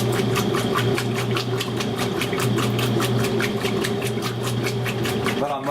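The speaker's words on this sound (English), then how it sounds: "this agitator on high speed with a larger load does an excellent job of rolling over the load" A Maytag A606 washing machine agitator runs on high speed with a larger load, giving a loud, steady motor hum under a fast, regular sloshing rhythm that continues unbroken throughout.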